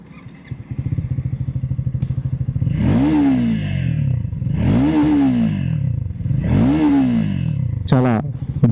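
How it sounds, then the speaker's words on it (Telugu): A Triumph Scrambler 400X idles with a throbbing, bassy exhaust, then revs sharply three times in even succession and settles back to idle between each, loud and close, with someone speaking over it. "ఒకసారి ఎగ్జాస్ట్ సౌండ్ వినిపిస్తాను చూడండి."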